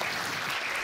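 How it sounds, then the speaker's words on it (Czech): Brief burst of audience applause at a Czech popular-science lecture, dense even clapping filling the whole moment without voices. "Prosím potlesk."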